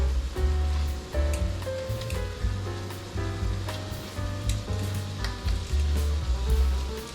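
Gulf shrimp sizzle in a crowded frying pan, a close crackling hiss with sharp pops throughout. Several low thuds and scrapes occur as the shrimp are moved around the pan.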